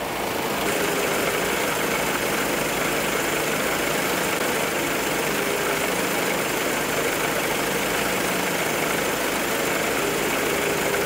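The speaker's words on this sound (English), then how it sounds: "Now I need to see where we're at, let it idle again." A Mercedes 190E engine with rough-running and non-start trouble idles steadily in a workshop after a small adjustment, its loud, close, even drone holding without change and no talking.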